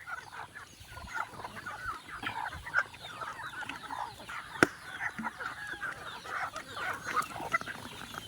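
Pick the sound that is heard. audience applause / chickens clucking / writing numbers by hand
chickens clucking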